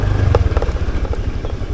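A motorcycle rides along a mountain village road near Gunung Prau, its engine a low, close, pulsing rumble with rattling bumps from the rough surface, brief and steady.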